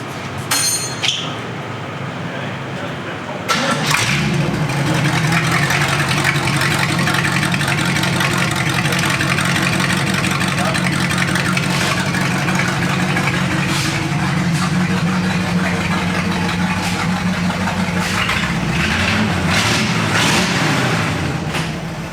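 A Corvette engine cranks and catches after a few seconds of quiet clinking, then settles into a loud, steady idle with a low throbbing rumble that continues close up, with no speech over it.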